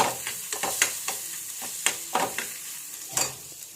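Soft sizzling of an egg frying in a pan with repeated scraping and stirring taps at an irregular rhythm, close up.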